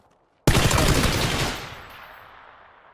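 A sudden loud burst of rapid automatic gunfire in the video game PUBG, lasting about a second before fading into a long echoing tail.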